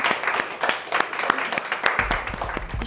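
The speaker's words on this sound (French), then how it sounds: "Et on peut l'applaudir." Audience applause at a hair colorist competition, a scattered group clapping with uneven, moderately close claps that continue steadily, with a voice speaking briefly near the end.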